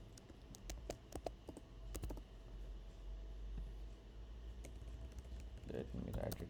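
A root password being typed on a computer keyboard, scattered key taps in uneven bursts with a few louder clicks, close and quiet over a low background hum.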